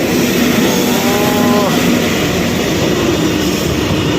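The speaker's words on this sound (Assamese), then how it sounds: "আহি গ'ল ট্ৰেইন" A goods train passes at a steady, loud roar, a continuous broad rumble of wagons holding close throughout with no break.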